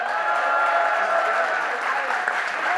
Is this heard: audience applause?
yes